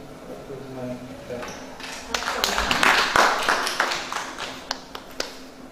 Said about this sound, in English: Stop clapping half-heartedly.